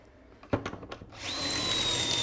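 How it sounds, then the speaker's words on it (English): A power drill bores a hole through a wooden frame-corner jig in a woodshop: a few sharp clicks and taps, then the motor spins up into a steady, loud whine that holds to the end. "this jig is centered up so I can drill three holes"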